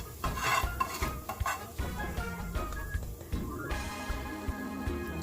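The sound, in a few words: curry powder burning in oil, stirred with spoon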